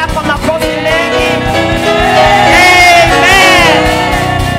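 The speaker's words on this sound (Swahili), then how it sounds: "Hebu mshangilie tena Bwana kwa makofi mengi." A church congregation cheers loudly and closely, a dense mix of shouting, whooping and raised voices building to a sustained roar.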